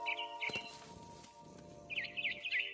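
A barn swallow in the video game What Remains of Edith Finch gives rapid twittering chirps, one short burst at the start and a longer run near the end, over a quiet rustling ambience.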